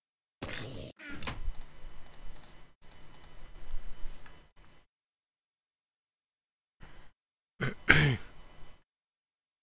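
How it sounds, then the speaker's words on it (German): A man clears his throat during a German Minecraft modpack let's play, with several short throaty bursts spread over a few seconds, fairly quiet and without speech. "Nix, war nur normales Räuspern."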